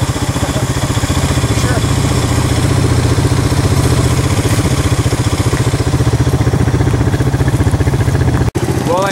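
A Honda motorcycle engine runs at a fast, steady idle close by, a loud even chugging putter that holds throughout and cuts out for a moment near the end.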